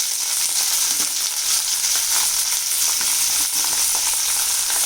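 Onions hit hot oil in a pan already holding fried peanuts for upma, giving a loud, dense, unbroken sizzle close by with no talking.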